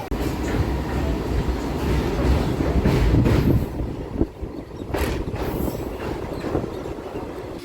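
A MEMU passenger train runs from Kakinada toward Visakhapatnam, its loud continuous rumble and rattling carriage noise filling the interior, dipping briefly partway and then resuming.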